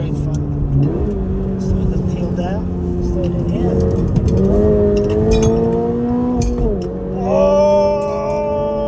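A Toyota GR86 sports car accelerates hard in gear, its engine note climbing steadily and then dropping at a gear change before rising again. The loud engine runs continuously throughout, close up from inside the car.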